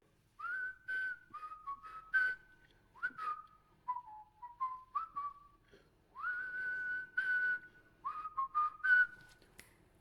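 A person whistles a melody alone, clear sustained notes in short phrases with brief pauses between them.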